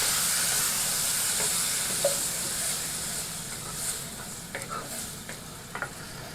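Chopped tinned tomatoes are stirred into a pot of soup with a steady wet hiss and simmer, and faint scraping clinks of a spoon come through now and then.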